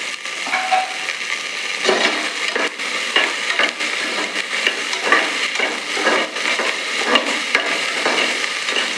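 Potatoes sauté in a pan for Tirunelveli-style vendakkai kulambu, a close, moderately loud frying hiss with repeated stirring and scraping strokes, no voices.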